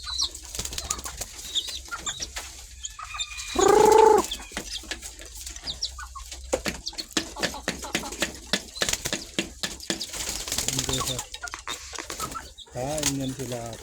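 Pigeons in a very dark area where they feed, giving a short low cooing call partway through, mixed with scattered clicks and bird noises while someone talks over them.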